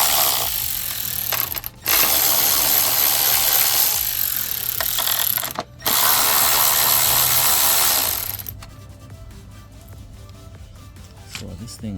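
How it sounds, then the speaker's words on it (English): A ratchet with a 10mm socket spins off three nuts; harsh, close bursts of rapid ratcheting separated by short pauses, then softer clicking and handling noises. "we'll switch to our 10mm socket. Take these 3 10mm nuts off."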